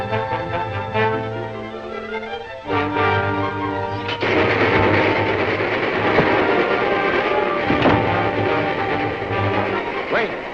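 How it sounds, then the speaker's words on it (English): Number 19, a passenger train, climbs a mountain grade in a 1938 film, a dense continuous rumble that swells and grows harsher as it draws near, with rhythmic clanking throughout. "Number 19 coming up the grade right now. It's a passenger train."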